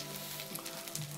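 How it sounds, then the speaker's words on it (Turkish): Takoyaki batter fries in a hot pan with a soft, steady sizzle and faint crackles and pops. The sound is quiet and continuous, with no talking. "İçi böyle kızarıyor böyle."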